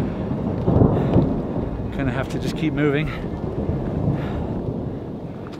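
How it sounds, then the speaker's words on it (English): Thunder rolls low and heavy from an approaching thunderstorm over a high mountain pass on the Colorado Trail, rumbling under wind noise while someone speaks briefly nearby. "Thunder's rolling in already."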